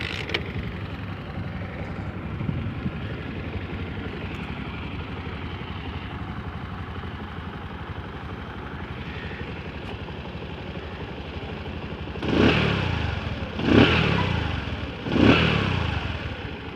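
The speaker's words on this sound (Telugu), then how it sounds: "ఇప్పుడు చూడండి బీటింగ్ ఎట్లుంటుంది అనేది బైక్ది" A motorcycle engine idles after a kick start on a serviced bike. A steady low putter runs throughout, then three loud revving bursts come near the end, about a second and a half apart.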